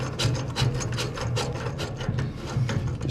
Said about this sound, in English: just put your fingers on the nut and turn the connector